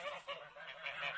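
About 25 geese on pasture honk in quick, overlapping calls, fairly faint and continuous, with no talking.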